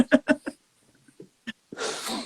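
A single loud sneeze bursts out near the end, after a few short vocal sounds and a brief quiet stretch.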